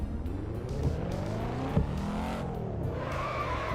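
Car skidding on the handbrake in a Volvo driving simulator game, a sustained tire squeal sliding up and down in pitch over the engine's drone, with a sharp bump midway.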